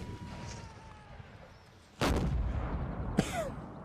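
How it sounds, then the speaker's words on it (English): Cannon firing a down-the-barrel shot in a Mount & Blade North & South line-battle mod: a sudden deep boom followed by a rumbling tail, then a sharper second report, over distant battlefield ambience. "So there's the down the barrel shot there from the cannons."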